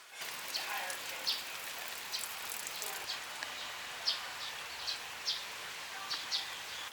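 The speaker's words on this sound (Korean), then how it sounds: "오늘도 여느 때와 같이 비가 내리고 있습니다" Steady rain falls on a Jeonju morning, a continuous soft hiss with scattered louder drip taps and a few faint bird chirps in the background, no voices.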